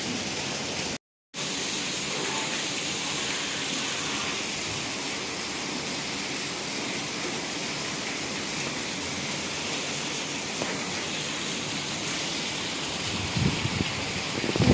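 Heavy rain pours steadily outdoors during a downpour that is flooding the streets, a loud, dense, continuous hiss with a brief dropout near the start and a few faint knocks toward the end.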